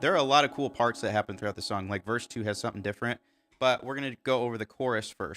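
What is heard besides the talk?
None of the usual background noises is heard.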